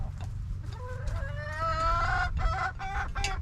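A chicken squawks and clucks loudly and repeatedly, up close, with a low background hum.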